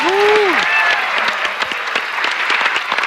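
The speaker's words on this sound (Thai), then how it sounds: "ทั้งสามคนขอเสียงปรบมือให้อีกครั้งหนึ่งครับ" Studio audience on The Voice Kids Thailand applauds three young contestants, loud and sustained clapping filling the room, with a brief voice at the start.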